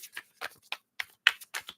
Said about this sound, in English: Let's shuffle these up. Cards flying everywhere here.